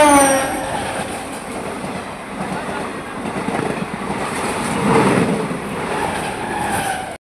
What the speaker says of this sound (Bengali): গাইস এই যে এখন ট্রেনটা আসছে